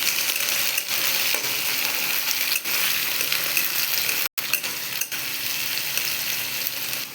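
Onion and capsicum fry in a pan for chilli chicken, giving a steady, fairly loud sizzle with crackling from start to finish and a short break near the middle.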